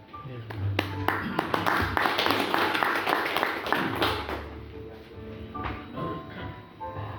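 Audience applause for the speakers and moderator at a church talk show evening, steady clapping from a crowd that continues throughout, with a voice talking over it.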